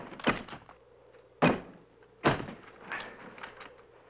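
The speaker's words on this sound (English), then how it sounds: "Nothing like being on the wrong side of a stuck door on your wedding night." A stuck door is jolted and rattled in three sharp, loud thuds about a second apart, followed by a few softer knocks and rattles, with no voices.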